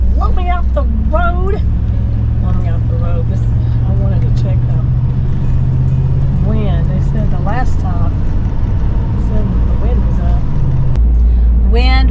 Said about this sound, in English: Big old mean semis and wind.